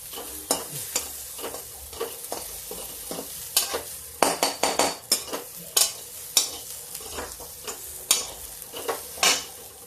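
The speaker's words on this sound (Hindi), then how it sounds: "फिर तेज पत्ता डाल देते आधा, इसे भून जाएगा।" Bay leaf frying in dal in a pan while being stirred, brisk scraping and clattering strokes of a spoon against the pan over a low sizzle, close and repeated throughout.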